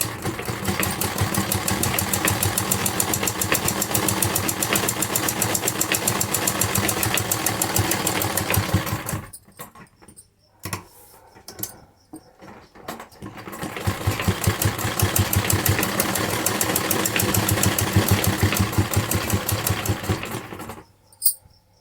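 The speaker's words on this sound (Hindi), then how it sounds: "अब हम गले को इसके किनारे के बिल्कुल पास से सिलाई लगाते हुए जाएंगे।" An electric sewing machine stitches close along the neck edge of a velvet kurti, running in a dense steady whir for about nine seconds, pausing with a few short bursts, then running steadily again.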